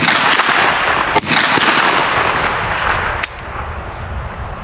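Gunfire from a Kel-Tec Sub2000 Gen 3 9mm pistol-caliber carbine at a shooting range: dense, rapid shots run together at close range, with a couple of sharper cracks standing out and the firing easing off near the end.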